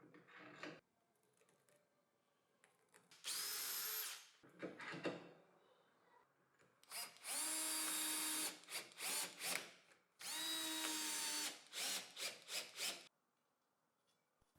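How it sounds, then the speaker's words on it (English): A power drill drives screws through a caster wheel into wood in several loud whirring bursts, two of them longer, separated by quiet pauses and softer handling noises. "It's time to screw the wheel to the wood."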